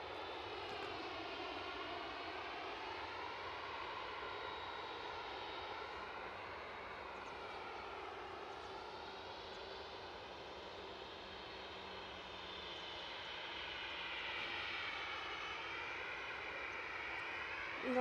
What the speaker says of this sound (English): Sounds like we've got another Ryanair on the way out.